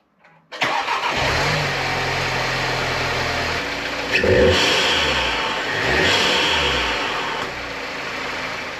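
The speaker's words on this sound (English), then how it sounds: "So we're going to start it now, see if we've got any problems." An Audi TT fitted with a ram air intake cranks and fires up, then settles into a loud, close idle with a couple of revs that swell and fade.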